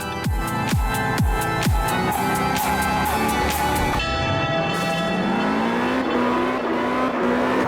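A Subaru drift car in Absolute Drift: Zen Edition revs hard in rapid repeated bursts, then settles into a rising engine whine with tire noise, loud and steady throughout.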